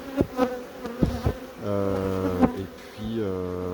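Honeybees buzzing around a plastic Nicot beehive, with close, loud passes of individual bees droning at shifting pitch over a quieter background hum.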